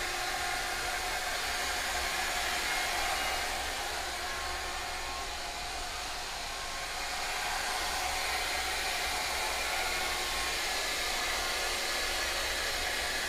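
A Shaper Origin handheld CNC router cuts a wood tenon to final shape for a tea rack, producing a steady, even broadband whir that runs unbroken for over thirteen seconds with only slight swells in loudness.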